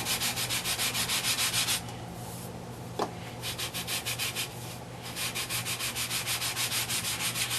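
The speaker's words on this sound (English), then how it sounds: "just gently sand. I'm not putting any pressure on the blade at all." A sanding block rubs gently back and forth over a mini stick propeller blade in steady rhythmic strokes, close and clear, with a short pause and a small knock midway before the even sanding resumes.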